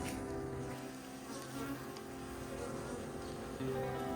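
A dense, steady buzz of honeybees inside a warm hive, a continuous close drone that swells slightly louder toward the end, with no talking.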